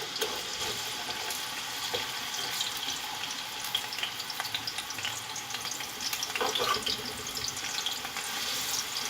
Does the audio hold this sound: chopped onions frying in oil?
yes